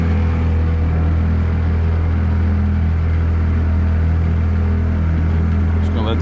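A boat outboard motor idles steadily while warming up on a hot Louisiana freshwater bayou, a low continuous rumble that holds close and even throughout.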